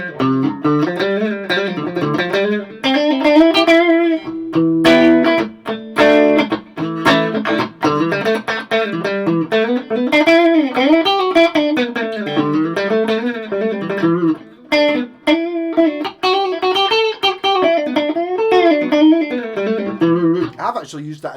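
Electric guitar with a humbucker pickup played through a Laney VC15 valve combo with reverb, clean but thick, strummed chords and melodic phrases ringing continuously for about twenty seconds, loud and close.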